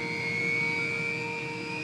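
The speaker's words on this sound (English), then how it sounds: "its massive turbine engines spring into life." Turbine engines of an unmanned K-MAX helicopter spool up with a steady, rising whine over a low rumble, heard faintly and without voices for a couple of seconds.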